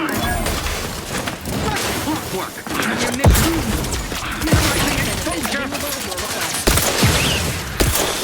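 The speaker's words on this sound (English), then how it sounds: "Dude, explosives?" Explosions and gunfire from the video game Outer Worlds 2 in a loud, busy fight, with several sharp booming hits standing out over steady combat noise while voices talk over it.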